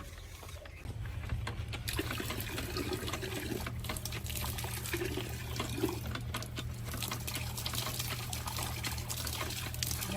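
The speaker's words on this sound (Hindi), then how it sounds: "यहाँ पे जो वाटर पंप लगा है उसका पानी मीठा है।" Water gushes steadily from a village water pump in rural Pakistan, a continuous close pour with faint mechanical clanking underneath, starting after a brief quiet moment and running without pause.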